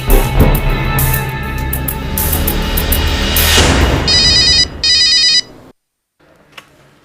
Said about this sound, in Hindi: मॉम, विक्रम का फोन है।